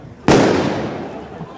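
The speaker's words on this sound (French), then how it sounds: "Quelques pétards sont lancés en direction des forces de l'ordre." A single sharp firecracker bang goes off close by during a street protest in Anderlecht where police block the road, its crack decaying into a long noisy wash of echo and crowd murmur.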